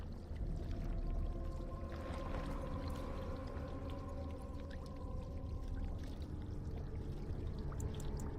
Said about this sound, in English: Fill the earthen jug with water.